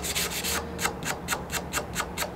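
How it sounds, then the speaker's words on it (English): A sanding stick is rubbed back and forth to knock down raised areas on a wooden cabinet. The close, rasping strokes come in a quick, even rhythm, about a dozen in all, with no voices. "I'm gonna use my sanding stick."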